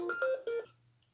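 A mobile phone rings with a short melodic electronic tone, a few quick rising notes that fade out, heard alone in a quiet room.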